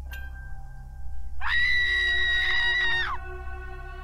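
A scream in the horror video game Bad Dream Coma: a single shrill, sustained, tonal cry lasting under two seconds over a low steady game drone, loud and close.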